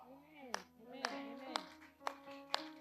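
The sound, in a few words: audience clapping during sermon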